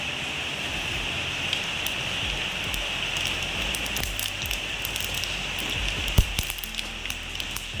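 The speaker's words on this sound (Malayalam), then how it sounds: "എണ്ണ നല്ലോണം ചൂടായി കടുക് അല്പം കൂടുതൽ കടുക് ചേർക്കണം കേട്ടോ" Mustard seeds splutter in hot oil for a tomato pickle, giving a constant dense crackling and fizzing with scattered sharper pops, one louder pop near the end.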